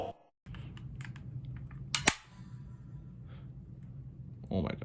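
A heavy-duty industrial stapler fires staples in a few sharp snaps, with one loud crack standing out, close by amid background noise and a brief voice.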